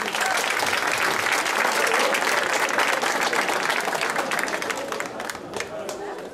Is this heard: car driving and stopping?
no